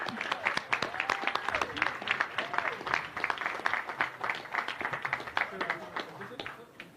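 Crowd applause at the opening day of an agricultural show, steady clapping held for several seconds amid outdoor bustle, with a voice talking over it at times.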